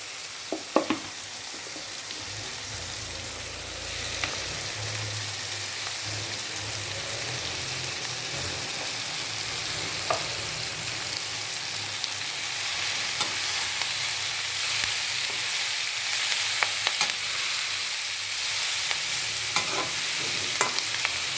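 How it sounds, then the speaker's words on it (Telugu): Home-grown leafy greens fry in a pan with a constant, even sizzle and occasional soft stirring taps throughout, fairly close and without any talking. "ఈ ఆకుకూర కూడా మనకు వేగాలి తొందరగా వేగిపోద్దండి"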